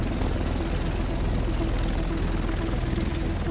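Steady, loud rotor thump and turbine whine of a helicopter in the video game The Division, a continuous close drone with no talk over it.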